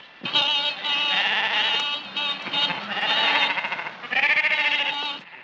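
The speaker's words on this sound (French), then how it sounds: "ils prennent toute la route, ces imbéciles de moutons" A flock of sheep blocking a road bleats continuously, with overlapping loud, wavering calls close by, part of a 1935 thriller film soundtrack.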